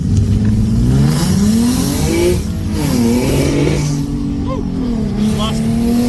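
A turbocharged Ford Mustang S197 V6 with a budget low-mount turbo kit launches from a brake stand, its engine revving loudly up and down close by, with rising pitch sweeps and a hint of tire squeal.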